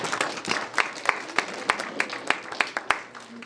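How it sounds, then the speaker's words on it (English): Audience applause welcoming a guest speaker at an event about the civil rights activist Hosea Williams, a thin run of separate, fairly close hand claps from a small crowd, steady for a few seconds. "Give him a round of applause."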